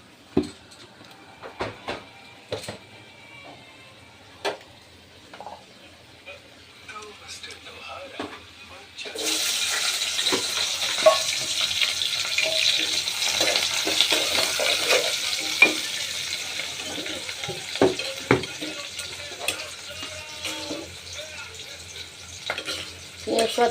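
Meat and spices hit a hot pan partway through, breaking into a loud, steady sizzle and frying hiss with occasional stirring scrapes and clinks, after quieter kitchen knocks; a person talks intermittently throughout.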